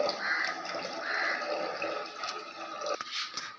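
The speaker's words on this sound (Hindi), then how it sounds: "तो इतना पानी डाल दिया" Water pouring steadily from a height into a pot for tea, a continuous splashing rush that thins toward the end with a few drips, close and fairly quiet, no talking.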